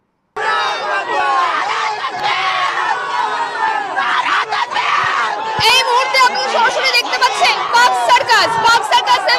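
A crowd of Muslim protesters demonstrates at the Park Circus seven-point crossing, loud massed voices chanting and shouting in rhythmic waves, with overlapping cries close by and the chant growing more punchy toward the end.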